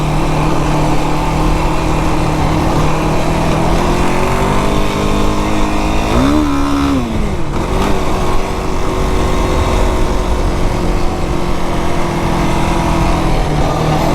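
A 2025 Yamaha YFZ450R ATV engine drones loudly and steadily on a desert trail, its pitch rising and dipping through a brief rev midway before it settles back to cruising.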